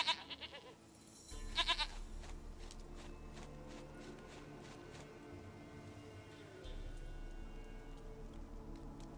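A goat bleats in Witcher 3: Wild Hunt, a couple of short calls near the start over a steady game ambience with faint footsteps.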